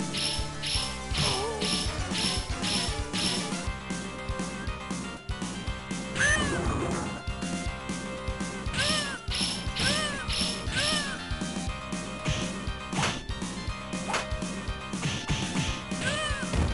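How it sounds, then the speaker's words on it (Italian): Cats inside rubbish bins meow over and over, several rising and falling cries overlapping with rattling, clanging bin sounds and a busy, dense background. "Ma perché i gatti dentro i buzzichi qui?"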